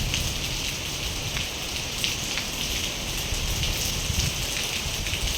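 Heavy rain pours steadily in Mysore, a dense continuous hiss of drops drumming on surfaces, loud and unbroken with no voices.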